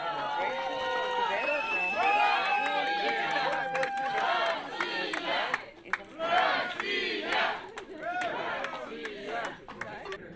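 A crowd at an airport at dawn greets returning Olympic athletes with roaring cheers, shouts and excited chatter, loud and dense throughout, with a brief lull near the middle.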